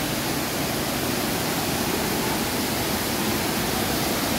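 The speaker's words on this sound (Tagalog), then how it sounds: "Grabe yung falls oh." Twin Falls waterfall in Dimiao, rushing water pouring in a steady, dense roar that fills the whole clip, loud and close with no breaks.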